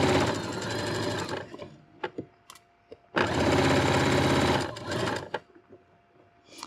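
A sewing machine running a straight stitch along a hem, topstitching close to the fabric edge: two long loud bursts of fast whirring stitching separated by a pause with small clicks and handling sounds.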